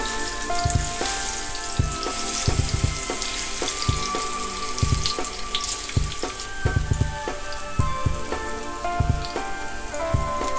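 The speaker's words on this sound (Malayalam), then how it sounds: "ഇനി ഇതൊന്ന് മറിച്ചിട്ടതിന് ശേഷം മറ്റേ ഭാഗം കൂടി ഫ്രൈ ചെയ്തെടുക്കുക." A banana sweet roll fries in hot oil after being flipped, giving a steady close crackle and sizzle that runs without a break and is full of dense popping bubbles, with no voices.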